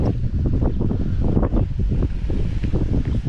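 Strong wind blowing across open water during summer bass jig fishing, a steady loud rushing roar buffeting the microphone throughout with no pauses.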